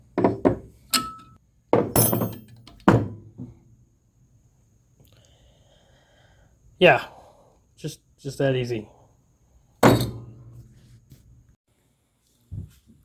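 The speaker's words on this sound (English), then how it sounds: "Little application with a hammer" A hammer strikes a puller on a flywheel during a 2012 Jetta TDI Sportwagen clutch install, giving sharp metallic taps in short bursts with pauses between, and a brief spoken comment.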